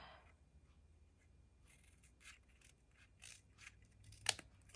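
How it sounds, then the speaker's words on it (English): A handful of quick, crisp scissor snips trimming notepad paper close by, spaced irregularly in an otherwise quiet room, with the last cut sharpest. "I'm going to take my scissors"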